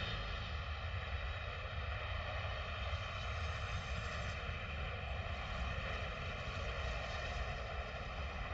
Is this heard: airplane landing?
yes